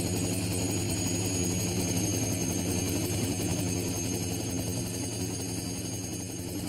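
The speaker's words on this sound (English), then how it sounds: "A fleet of 3 Lama helicopters take to the air." A fleet of three Lama helicopters lifts off at a cable car tower construction site in Hong Kong, producing a steady, dense roar of engine and rotor noise with no break.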